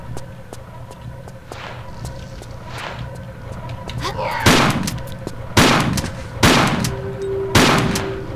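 Gunfire in Tomb Raider IV: The Last Revelation, with several sharp, loud single shots at uneven intervals over a steady low game hum, plus a few faint taps and a brief tonal chime.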